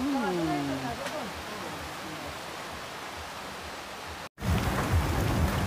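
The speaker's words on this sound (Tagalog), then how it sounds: "inabot ng ulan." Heavy rain pours steadily in a dense, loud hiss, with a voice briefly heard at the start and a short dropout near the end.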